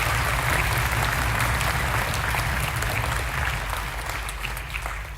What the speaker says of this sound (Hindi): जोरदार तालियों से हौसला अफजाई इन बच्चों की।